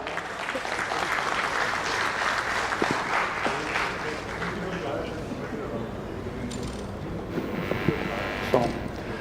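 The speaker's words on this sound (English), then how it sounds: "Please welcome Mr. Jorgen Hayes with the usual applause" Applause fills a conference stage at an insurance industry summit in India as the next speaker walks on, a steady dense wash of clapping from the audience with crowd murmur, holding level throughout with a few sharper claps near the end.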